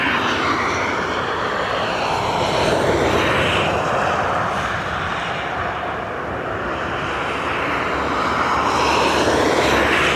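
An Aer Lingus airliner arriving at Dublin Airport from Heathrow, its engines a loud, close, continuous roar with a shifting whine that dips slightly midway and then swells again.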